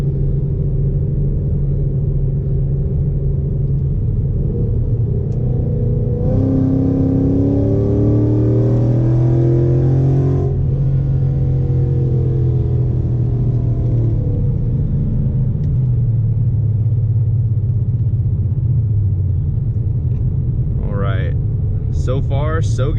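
A bolt-on modified Ford Mustang pulls hard through third gear on a Mexico City road, its engine note climbing steadily in a loud, close, rising roar before settling back to a steady cruising drone.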